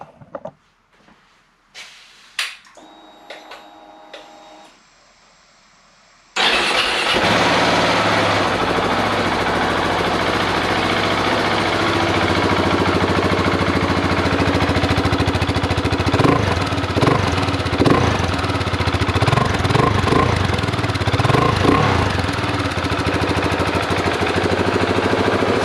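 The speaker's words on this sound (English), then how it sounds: "So this is the stock exhaust. Just going to start it up." A motorcycle with its stock exhaust fires up after a few clicks and clunks, then settles into a loud, close, steady idle with a throbbing rumble and small revving swells, no voices over it.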